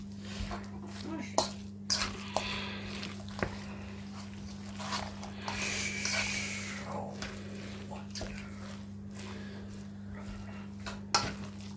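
A bowl of Italian-style meatloaf ingredients being mixed by hand gives soft scraping and scattered clinks of a utensil against the dish, heard close over a steady low electrical hum.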